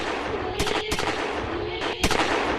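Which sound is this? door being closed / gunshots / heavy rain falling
gunshots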